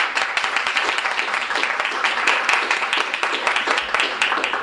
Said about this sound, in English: Let's please give a warm round of applause